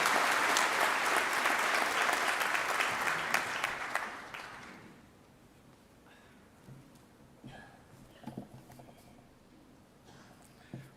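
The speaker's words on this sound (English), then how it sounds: "I kindly invite you all to give him a round of applause in acknowledgement of this accomplishment." Audience at a university winter graduation ceremony applauds loudly for about four seconds, then the clapping fades out into a quiet hall with a few scattered claps and murmurs.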